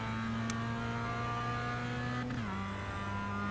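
A Mazda MX5 race car engine in a racing game at Brands Hatch Indy howls steadily at high revs under full throttle, then dips briefly at a gear change and carries on loud and close, with no talk over it.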